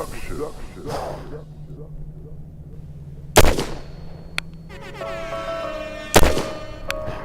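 Two sharp, loud rifle shots from an MK 12 Mod 2 firing Remington Premier Match 62 grain hollow point ammunition, spaced a few seconds apart, each with a ringing echo, with a person talking quietly between them.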